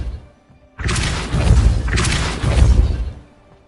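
A Depulso spell is cast in the video game Hogwarts Legacy, giving a sudden loud whooshing blast with a heavy thudding crash. A second surge follows before it fades.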